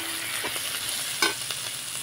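Chopped, peeled pointed gourd with salt and a little turmeric frying in a pan while being stirred, a soft steady sizzle with a few brief scraping strokes, one slightly louder, and no voices.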